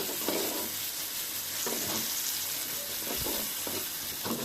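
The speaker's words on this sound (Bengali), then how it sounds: "টমেটোটা ভালোভাবে ভাজি করব" Tomato frying with onions in a pan for a dried shrimp bhuna, a continuous close sizzle with repeated scraping stirs every second or so, no voices.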